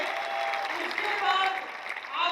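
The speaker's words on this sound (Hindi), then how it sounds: "भरत सर के लिए जोरदार तालियां" An audience at a company convention gives a loud round of applause for Bharat sir, a brief, dense burst of clapping mixed with shouting and cheering voices.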